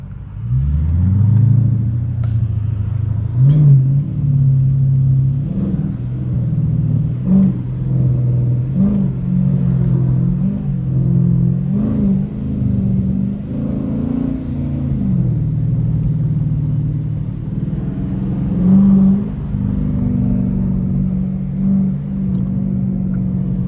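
A Dodge Challenger R/T rumbles in rush-hour city traffic with a deep, loud engine drone and repeated short rev swells as it creeps and stops, heard from inside the car with no talk.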